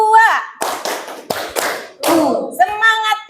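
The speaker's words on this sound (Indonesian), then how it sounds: "Coba tepuk semangat ya." A classroom group does a rhythmic spirit clap, with sharp bursts of hand claps in a quick pattern, mixed with voices calling along between and over the claps.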